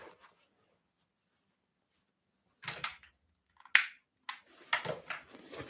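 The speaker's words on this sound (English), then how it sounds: "The old dear lights the gas fire with a match." A match is struck to light a gas fire: a sharp scrape and flare stand out alone against near silence, with a few brief rustles and clicks before and after it.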